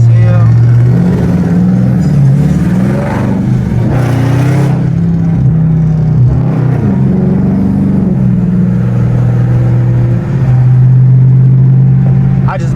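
A Dodge Scat Pack's engine roars loud and close from inside the car, rising and falling as it revs and accelerates, while people talk over the steady rumble.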